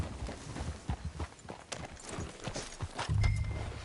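Horse hooves clip-clop steadily at a walking pace on hard ground, close and fairly loud, with a brief snort or whinny-like burst near the end.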